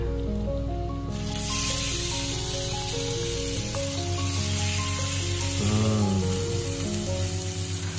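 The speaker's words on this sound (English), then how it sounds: "And here's my pan hot enough to cook the steak." A steak sears in a hot pan and hisses steadily up close, while background music plays throughout.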